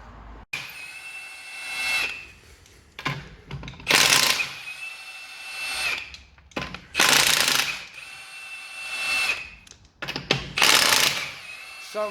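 A power tool, likely an impact wrench, takes a wheel off a BMW E93 during a Brembo big brake kit install, firing in about five loud, rattling bursts separated by quieter gaps in a workshop.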